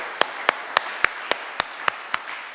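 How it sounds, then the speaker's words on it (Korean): Eight sharp hand claps in a steady, even beat from a congregation praising God during a church service, with no talking over them. "우리 하나님께, 우리의 길이 되신 우리 주님께 영광과 찬양의 박수 올리겠습니다."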